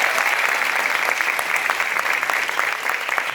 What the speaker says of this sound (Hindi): एक बार तालियां बजनी चाहिए इनकी जीत के लिए